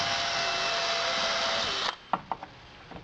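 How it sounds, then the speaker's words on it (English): A power drill bores through a longboard blank with a loud, steady whine that cuts off abruptly, followed by several sharp knocks and taps as the bit clears the wood. "I'm going to be drilling out these holes"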